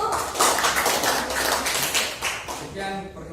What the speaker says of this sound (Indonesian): Kita berikan tepuk tangan dari kelompok 1